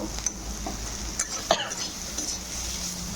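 Bitter gourd fries in a pan with spices, giving a soft, constant sizzle broken by a few sharp clinks and scrapes of stirring against the pan.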